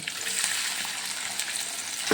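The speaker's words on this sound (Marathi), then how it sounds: "मिरचीची आणि लसणाची फोडणी दिलेली आहे त्यामध्ये आपण आता कांदा घालूया" Onion frying in hot oil with a chilli and garlic tempering gives a dense, steady crackling sizzle, close and continuous, with no voices.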